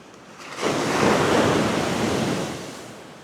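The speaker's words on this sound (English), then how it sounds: "Here comes a nice wave." A single ocean wave breaks close by, rising suddenly into a full roaring crash of surf, then easing off, with light wind buffeting.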